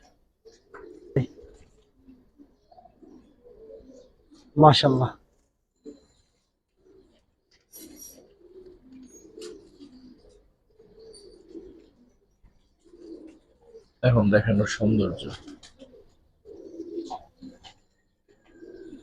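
Giribaz pigeons coo in soft, low, repeated murmurs close by, while someone talks intermittently and louder bursts break in twice.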